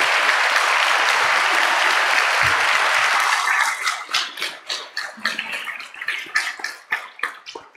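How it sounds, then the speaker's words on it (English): A church congregation applauds loudly and steadily for about three and a half seconds, then the clapping thins into scattered, uneven claps that taper off. "would you give the three of them a big round of applause?"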